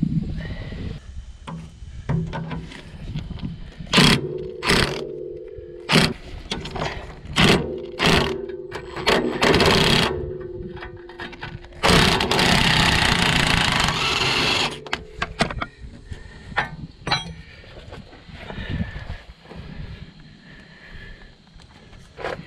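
Fitting a new front coil spring on a 2001 Honda CR-V with spring compressors: a run of loud, close metallic clanks and knocks, with rapid mechanical ratcheting bursts in between, and no talk.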